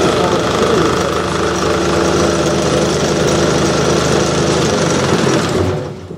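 A wood lathe fitted with a homemade adapter spins a wooden cube, giving a steady, loud mechanical drone and hum that holds evenly before winding down at the end.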